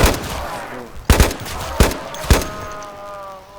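Gunfire from military zombies in a Minecraft game: four sharp shots spaced about a second apart, the last followed by a ringing tonal tail, over a quiet background.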